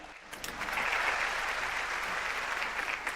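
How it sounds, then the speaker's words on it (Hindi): Audience applause at a Pakistan Army show, a dense, steady wash of clapping from a large crowd that holds evenly for a few seconds. "आपकी भरपूर तालियों में इनको रुखसत करना चाहेंगे।"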